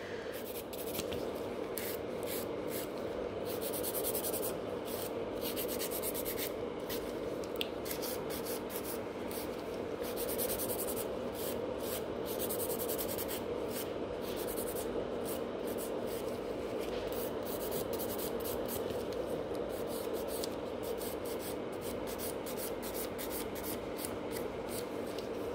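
A nail file rasps continuously against fingernails from underneath during a salon gel rebalance prep, a close, steady scratchy rubbing with quick repeated strokes throughout.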